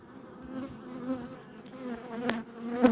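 Honey bees buzz around an open beehive, a close, continuous droning hum with wavering pitch and a few brief louder passes near the end.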